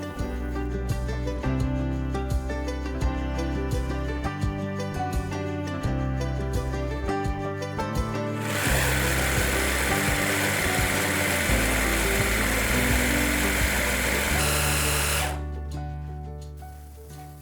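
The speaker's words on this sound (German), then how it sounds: "Und jetzt kann es ans Pürieren gehen." A blender purees vegan cashew cream cheese with apple cider vinegar, its motor humming steadily. Midway the sound swells into a dense, roaring whir for several seconds, then drops back to the lighter hum.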